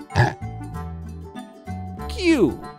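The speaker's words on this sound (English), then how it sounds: "Pig." A few short pig grunts and oinks over a bouncy musical backing, the last one louder and squealing downward.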